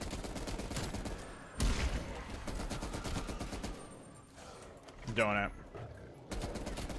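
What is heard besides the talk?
gunfire in the video game Cold War Zombies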